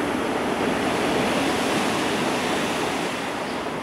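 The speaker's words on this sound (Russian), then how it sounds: "Чуть-чуть вот море штормит." A dense, steady roar of rough, stormy Black Sea surf at Lazarevskoye churns without a break, loud and broadband, like heavy waves crashing continuously.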